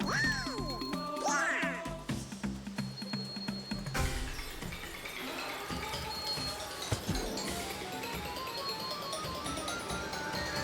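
Donald Duck's voice effect from the GameCube game Donald Duck Goin' Quackers: nasal quacking squawks with rising and falling swoops, set over busy game music and clattering effects that run steadily throughout.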